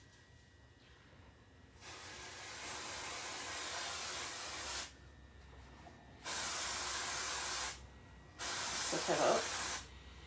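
Freeze spray aimed at a decorated pancake cake, heard as three long hissing bursts of a few seconds each separated by short pauses, loud and close, with faint talk in the background.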